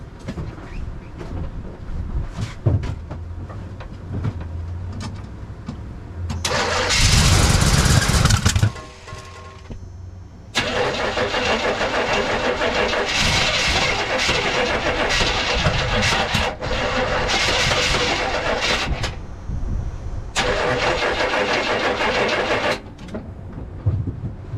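A car engine cranks repeatedly in cold, snowy weather in long, laboured bursts, struggling and whirring without catching, with short pauses between attempts, the battery sounding weak.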